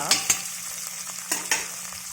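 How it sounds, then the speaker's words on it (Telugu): Whole spices including fennel sizzle in oil in a pan for brinjal dum biryani, a steady close-up frying hiss punctuated by sharp clicks of stirring. "ఇవన్నీ వేసి ఇలాగ వేసి ఫ్రై చేసుకోవాలి"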